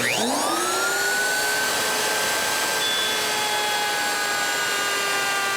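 Wood router spins up with a rising whine and then holds a loud, steady high-pitched scream while cutting a quarter-inch cutout for a router table insert, close by.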